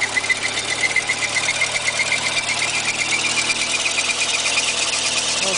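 A cold 1984 Volkswagen Rabbit engine runs steadily at close range with a rough, knocking idle and a faint whine, taking a few revs without any talk over it.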